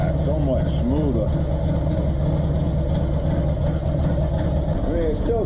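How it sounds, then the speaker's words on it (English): A 2004 Harley-Davidson engine idles steadily on a new front engine mount, giving a continuous low rumble close by, with a voice faintly audible over it. "it still shakes, but you can see the engine is so much smoother"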